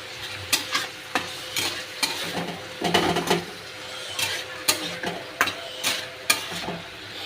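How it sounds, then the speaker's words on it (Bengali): Boiled potatoes sautéed in a pan with yogurt and oil, a spatula scraping and knocking in a steady, repeated stirring rhythm over a soft sizzle, close by with no talking. "এবার আমি আলুটাও কষে নেব।"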